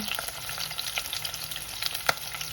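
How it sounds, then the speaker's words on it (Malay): Shallots sautéing in hot oil in a pan: a steady, bright crackling sizzle with scattered pops and one sharper clack near the end, close and fairly quiet, with no one speaking. "Tumiskan bawang holen."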